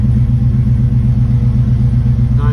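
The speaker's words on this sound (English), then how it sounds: "All right, cold start, hadn't been started yet." A 1970 Chevrolet Camaro engine idles on a cold start, a loud, steady low rumble with a rhythmic throb and no talking.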